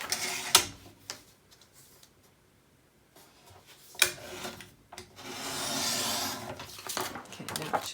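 Paper trimmed for a scrapbook project: sharp clicks of a trimmer blade and scraping, rubbing strokes of the cutter along the sheet, close and intermittent, ending in a longer sliding swipe.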